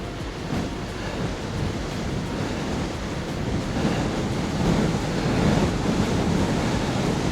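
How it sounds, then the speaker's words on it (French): Cold head wind rushing past a rider descending a hill on a Rockrider ST 120 mountain bike on a winter ride, a loud, steady broadband roar that builds slightly toward the end, no voices. "Je me prends le vent de face."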